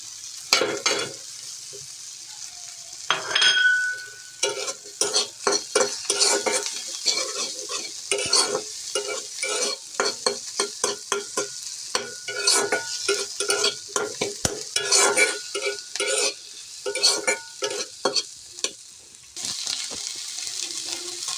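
An egg frying in a pan with chopped tomato and coriander for a quick bread pasta, loud sizzling under rapid, repeated spatula scraping and tapping strokes that continue almost without pause.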